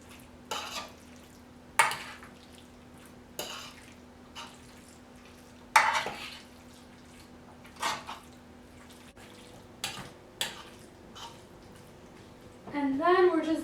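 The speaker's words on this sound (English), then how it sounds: "let us mix all that in here" Drained bow tie pasta is mixed into a baked feta dish, with spaced scraping and clinking strokes of a utensil against the baking dish at close range, a faint steady hum underneath and a wetter squelchy rustle at the end.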